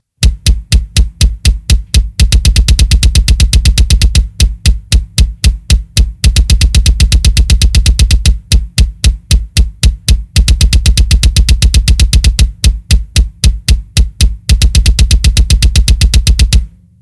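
Rapid double bass drum strokes pound out steady even sixteenth notes at a slow tempo, played in bursts with short pauses, loud and close with no voices.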